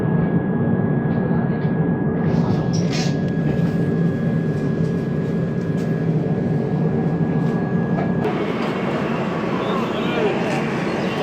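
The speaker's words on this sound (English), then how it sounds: "Train stopped and started." A Rajdhani Express passenger train runs with a steady broadband rumble and clatter heard from inside, and a faint high tone holds for several seconds before the noise shifts slightly as the train moves off again.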